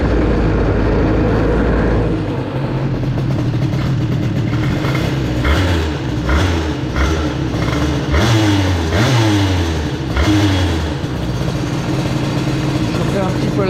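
A 2Fast 70 moped engine fitted with a Stage6 exhaust warms up, its loud, raspy two-stroke buzz running continuously with repeated small blips of revving throughout, close to the listener.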